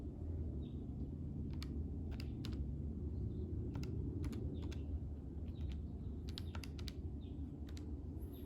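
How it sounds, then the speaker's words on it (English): Computer keyboard typing in a lecture setting, with a series of separate key clicks spread across the clip over a steady low background hum, close and fairly soft with no talk. "I can type this in."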